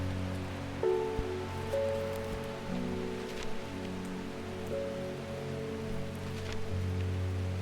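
Steady rain patters in the video game Strange Horticulture over a soft background of sustained musical tones, with occasional louder drops; no voices.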